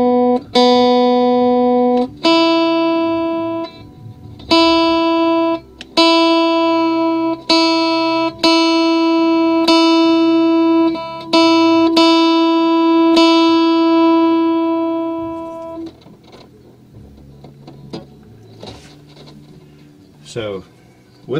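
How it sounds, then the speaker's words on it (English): A Carvin AE-185 acoustic-electric guitar plays through its piezo bridge pickup into a small amp: single plucked notes ring out one after another, each with a bright attack and a clear sustain. Near the end the notes grow quieter and sparser. "Show you what the acoustic sounds sound like."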